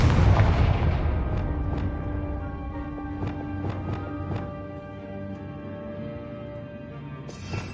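Confringo explosion spell in the video game Hogwarts Legacy, a heavy booming blast at the start that rumbles and decays over several seconds, followed by scattered debris clatter and ringing tones.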